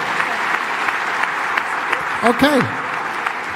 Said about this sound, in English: Everybody's clapping their hands for you.